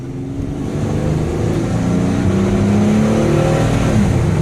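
A 2008 Chevy Uplander wheelchair van accelerating hard on a road test, its engine note rising steadily as it revs up, loud and close, with no voices.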